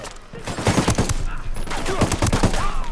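Video game gunfire from Ghost Recon Wildlands comes as a loud, close burst of rapid shots that settles into a sustained fusillade lasting about three seconds.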